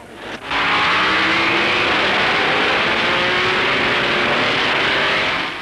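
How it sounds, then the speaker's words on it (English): Vintage race cars, a little 1.5-litre Maserati and a big Alfa Romeo, roar together in a loud, sustained, slightly buzzing engine drone that rises abruptly and holds steady. "there's real racing between Sommer on the little Maserati and Vermeil on the big Alfa"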